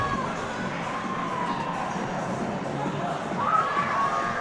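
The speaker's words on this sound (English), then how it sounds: "Crowd making their presence known right now." Ice hockey crowd at a men's college game between Dordt and Nebraska-Omaha cheers and shouts in a steady, dense roar of many voices that swells louder near the end.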